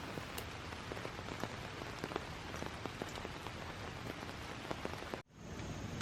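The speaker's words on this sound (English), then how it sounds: "I realized my rain interruptions were not done for the day" Steady rain falls outdoors during fall planter planting, a dense even patter of drops on surfaces with occasional sharper hits, broken by a brief dropout near the end.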